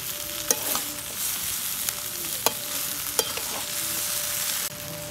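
Vegetables for sukto sautéing with mustard and poppy seed paste in a pan, a steady soft sizzle with a few sharp clinks of a utensil stirring against the pan, and no talking.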